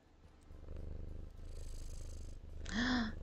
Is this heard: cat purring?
yes